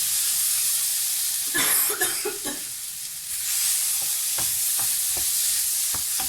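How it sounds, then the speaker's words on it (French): Spices simmer in a pan with a splash of water, giving a steady bright sizzle and hiss, with a few soft stirring clicks and scrapes scattered through it. "Juste un tout petit peu d'eau pour faire mijoter les épices"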